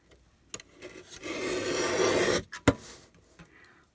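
Paper being trimmed for a handmade Christmas quilt card: a few light ticks, then a steady close rasping cut lasting about a second, followed by a sharp snap and quiet scraping.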